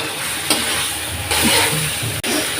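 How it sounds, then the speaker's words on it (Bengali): Diced potatoes sauté with spices in a hot pan for masoor dal bhuna, a close steady sizzle broken by a few scraping stirs, no talking. "মশলার সাথে আলুগুলো ভালো করে কষিয়ে নিই"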